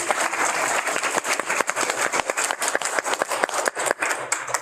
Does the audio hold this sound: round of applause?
yes